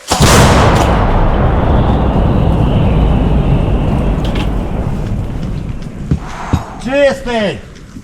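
A loud, heavy artillery gun blast opens, then a long rumbling decay, with Ukrainian territorial defense gunners at the front line. Faint voices and whistling tones follow toward the end.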